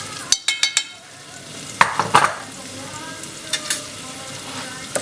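Onions frying in a pan with chilli powder, garam masala and salt, a steady sizzle with several sharp spoon taps and scrapes against the pan at the start and midway.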